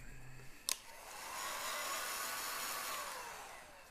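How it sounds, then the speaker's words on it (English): A heat gun blows steadily as it shrinks heat shrink tubing on a Mazda MX-5 wiring loom for a kit car, its quiet airflow whine rising after a brief click and holding for several seconds. "Right, let me heat shrink that."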